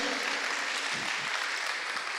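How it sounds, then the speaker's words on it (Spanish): A congregation applauds during a church service, a dense even patter of many hands that holds steady at moderate volume for a couple of seconds. "Puede darle un aplauso al Señor por eso."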